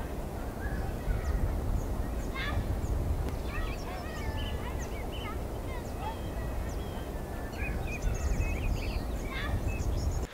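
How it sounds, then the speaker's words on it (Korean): Pre-recorded birdsong laid in as ambience, with bright chirps and short calls scattered over a dense, steady outdoor background rumble. "이미 녹음된 새소리 등을 넣어주면은 더 싱그러운 장소로 바뀌는 그런 효과를"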